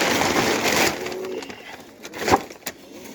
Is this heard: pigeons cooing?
yes